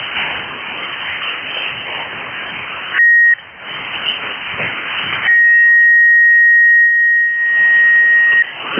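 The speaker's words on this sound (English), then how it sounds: "I heard a beep in there." Short steady beeps cut through a ham radio net on a single-sideband channel, one brief tone and then a longer sustained one, loud over hissy band noise and crackle.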